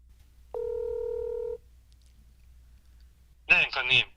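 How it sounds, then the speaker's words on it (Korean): A single steady telephone ringback tone sounds for about a second while a call is placed, followed by a short silence before a voice answers on the line. "주진우 의원께 일단 전화를 좀 드려보겠습니다"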